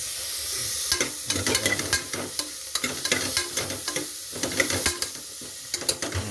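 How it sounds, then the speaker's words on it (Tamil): Onions and tomatoes fry in a pan for Karaikudi-style biryani, stirred steadily with a constant close sizzle and scraping, and no voices. "நல்லா வெங்காயம் தக்காளி எல்லாம் நல்லா வணங்கணும் அது எண்ணெய் இல்லாமல் ட்ரை ஆகணும்"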